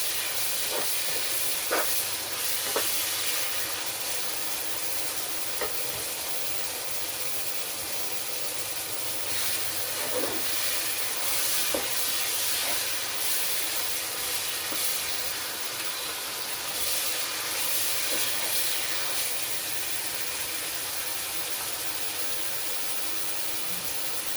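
Bolognese sauce sizzling and crackling in a pan as its liquid boils off, a steady close hiss dotted with small irregular pops throughout, no talking.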